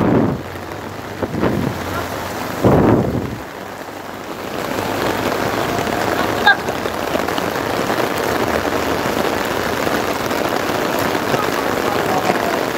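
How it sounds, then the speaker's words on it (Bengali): Heavy rain pours steadily onto a flooded road, a dense continuous hiss with a few louder splashing surges early on. "বৃষ্টির কমতি নাই, বৃষ্টির"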